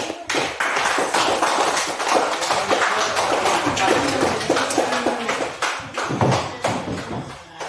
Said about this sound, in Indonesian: Kita aplaus kepada kelompok 1 ayo.